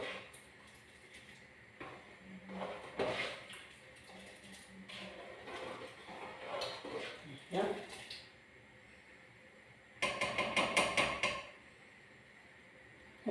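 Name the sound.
stirring mhamsa pasta in a pot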